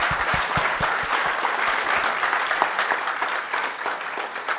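A conference keynote crowd applauding steadily, dense clapping at close range that keeps going without a break.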